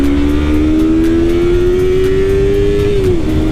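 A 2019 Yamaha R3 300cc motorcycle accelerating hard, its engine note climbing steadily in pitch, loud and close, with no talking.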